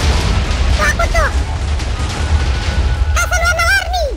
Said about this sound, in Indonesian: Petasan warna-warni